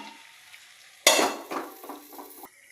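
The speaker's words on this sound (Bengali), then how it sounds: "চলছে চিকেনটা কষানো।" Chicken for biryani being fried and stirred in a pan, a sudden loud burst of sizzling with scraping strokes that fades and recurs, close by, no voices.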